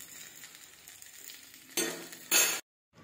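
Brinjal (eggplant) fries in a pan with a continuous hiss. Two louder bursts of sizzle follow as pieces are stirred or turned, then the sound cuts off into brief silence.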